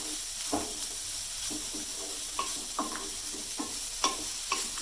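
Grated carrot sautéing in a pan makes a steady background sizzle, with repeated spoon scrapes and stirring clicks landing roughly every half second, close and clear.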